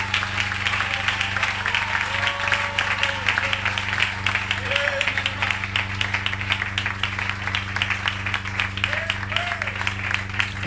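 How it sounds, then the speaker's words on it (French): A congregation at a French-language church service claps over a steady low hum and the murmur of voices, a continuous spread of hand claps running for around ten seconds. "Oh, donnez à Dieu une main d'acclamation."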